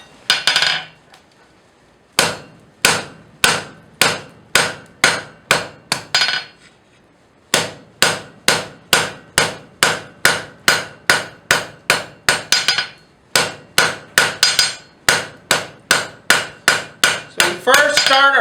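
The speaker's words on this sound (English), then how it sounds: "I'll go ahead and heat it up. And I'll start forging, and you'll see what I mean by the edge blows." Hot steel is forged with a hammer on an anvil, rhythmic ringing blows in steady bursts with short pauses between runs, close and loud, no talking.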